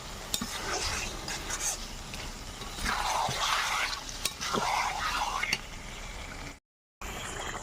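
Spiced Nehru fish curry stirred in a pan, a spoon scraping and the oil gently sizzling in uneven strokes, moderately close, broken by a brief silent gap near the end.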